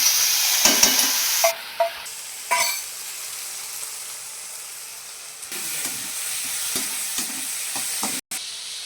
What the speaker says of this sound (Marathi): ही भिजलेली डाळ आहे मी दोन तास ही भिजवून घेतलेली आहे ही ह्याच्यात घ्यायची टाकून मिक्स करायची